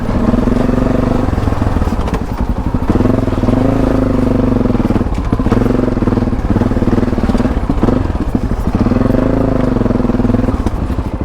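Loud, close Yamaha Tenere adventure motorcycle carrying luggage, heading downhill on a trail with its engine running continuously, rising and falling with throttle changes, with some clatter over rough ground.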